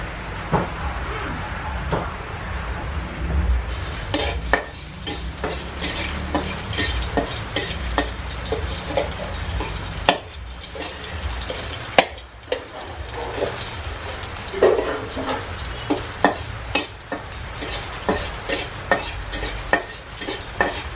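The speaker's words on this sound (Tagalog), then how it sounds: "gigisa niya yung labong muna sa bawang" Boiled, squeezed bamboo shoots are sautéed with garlic in a pan, a loud continuous sizzle with frequent scraping stirs and clinks of the utensil running throughout, close up.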